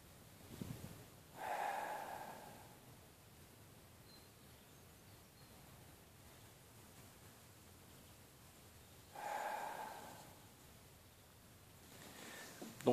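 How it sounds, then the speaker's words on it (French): Slow, fluid breathing for relaxation before sleep, with two long drawn-out breaths spaced far apart, soft and close, separated by a long quiet pause. "c'était de manière fluide et avec un allongement de la respiration un petit peu"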